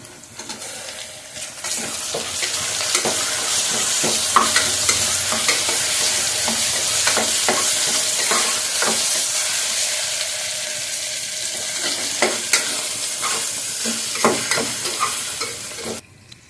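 Ginger garlic paste frying in hot oil in a pan for tomato rice, a loud continuous sizzle with repeated scraping stirs of a spatula, close and steady.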